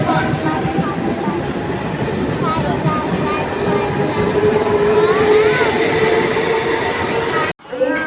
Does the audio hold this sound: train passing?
yes